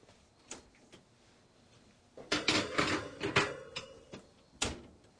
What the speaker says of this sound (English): Now we're ready to bake and pop them in the oven.